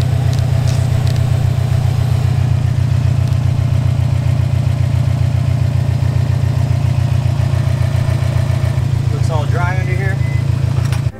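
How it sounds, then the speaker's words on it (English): A Subaru WRX STI idles close by while warming up after an oil change, its boxer engine throbbing in an even, steady rhythm. Near the end, a brief chirp or squeal sounds over it. "now I'm just gonna let the car warm up a little bit"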